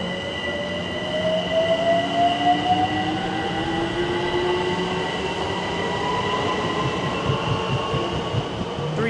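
A Thameslink train pulls away from West Hampstead Thameslink towards Clapham Junction, a steady rumble of wheels on rail with rising electric motor whine and faint squeals, sustained and fairly close throughout.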